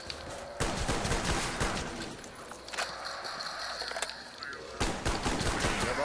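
Bursts of gunfire in a Call of Duty Black Ops zombies match: rapid volleys near the start, scattered shots through the middle, and another heavy burst near the end, with faint in-game sounds between.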